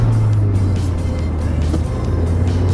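A car's engine drones steadily from inside the cabin while driving, a constant low hum with a firm, even tone and no voices over it.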